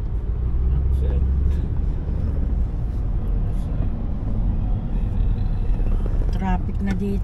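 Continuous road traffic rumbles on a congested highway near an accident scene, with engines droning loudly and vehicles passing, while people talk over it throughout.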